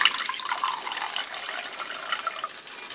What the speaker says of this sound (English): I'm going to pour it into a glass and see what color it is.